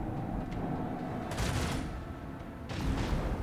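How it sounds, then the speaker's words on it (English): Plasma torpedoes firing during a space battle in the Rogue Trader video game, heard as two broad bursts of rushing noise about a second apart over a steady low rumble of ship ambience, moderately loud. "Plasma torpedoes."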